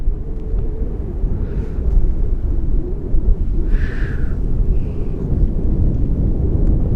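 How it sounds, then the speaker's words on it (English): Strong wind roars across an exposed mountain summit campsite, a steady, dense low rumble buffeting the microphone for the whole stretch, with a few brief higher whooshes and no speech. "you can hear the wind down in the valley."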